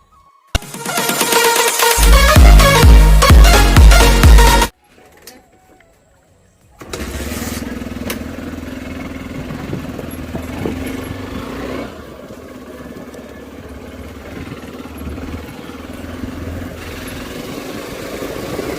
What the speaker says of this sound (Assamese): বাইক বা স্কুটি যি নহয় আপোনাৰ ওচৰত কিকটো প্ৰেক্টিচ কৰি দিব।